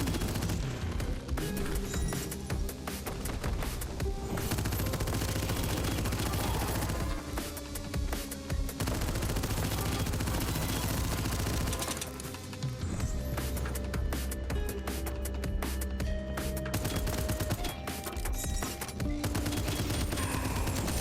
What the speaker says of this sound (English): I need to see how long I can actually shoot as long as I'm hitting some.